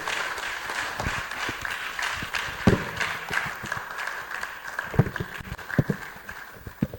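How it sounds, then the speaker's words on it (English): A crowd at a medical and dental alumni event keeps applauding Dr. Ishaya Gambo after his talk, a continuous wash of clapping with a few sharper, louder claps standing out. "Let's keep clapping for Dr."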